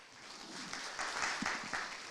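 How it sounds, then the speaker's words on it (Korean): Audience applause at a Korean medical tourism conference session, a moderate steady patter of clapping filling the room for a couple of seconds. "뜨거운 박수 부탁드리겠습니다."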